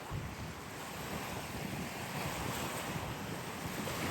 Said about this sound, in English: the waves are wilding